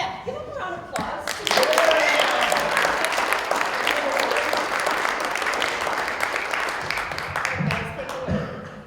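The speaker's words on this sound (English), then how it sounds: "give them a round of applause" Audience applause at an open mic night, a dense burst of clapping from a crowd that starts after a second and holds steady, loud and close, with a few voices mixed into the noise.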